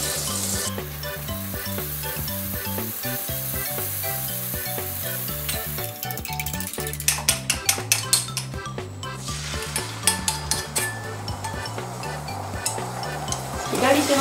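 Butter-coated frying pan shaken back and forth over a strong gas flame while eggs for an omelette are stirred, steady sizzling with rhythmic metallic clinks and scrapes that grow busier toward the end, over background music.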